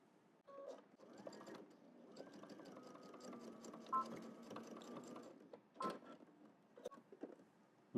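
A home sewing machine stitches a seam on a double-breasted jacket, quiet rhythmic mechanical whirring in a few short runs with pauses and small clicks between bursts, fairly faint and close.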